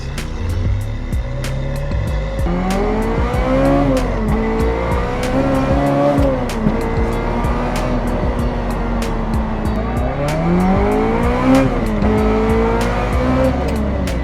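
Ferrari F355 Challenge race car on a track, its engine rising and falling through repeated revving shifts with harmonic whine, loud and close, ticking clicks throughout and no talking.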